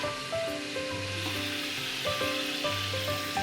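Milkfish (bangus) wrapped in foil fries in a pan, giving a steady close sizzle and crackle with small bubbling pops and no voices.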